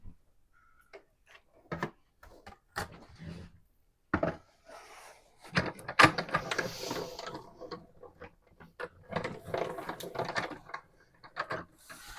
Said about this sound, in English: I'll run this through the die cutting machine.